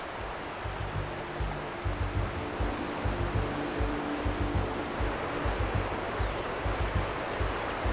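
Dynjandi waterfall in Iceland's Westfjords roars as a steady, broad rush of falling water, with low rumbling pulses underneath, continuous and fairly loud throughout.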